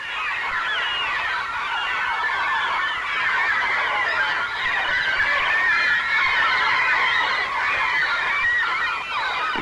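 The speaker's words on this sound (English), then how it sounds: "The gulls keep circling overhead." Dense, continuous calling of seabirds at cliff nests on the Newfoundland coast, gulls circling overhead and hungry chicks crying, a loud unbroken chorus with no talking.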